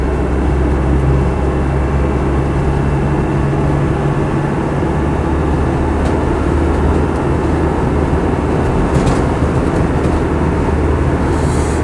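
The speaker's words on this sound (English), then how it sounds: "Even though it's got the BFG all-terrain tyres on it, they're not too noisy or too harsh on the road." A Land Rover Defender 90 200TDi hardtop drives on BFG all-terrain tyres, giving a steady, loud low engine drone and road rumble that runs unbroken throughout, with no talking.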